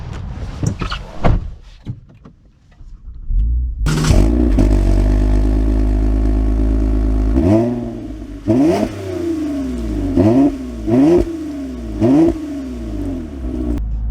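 A 2024 Toyota Camry TRD: a few clunks and clatters, then the engine starts with a loud rising roar and settles into a steady hum before several sharp revs that climb and fall in quick succession.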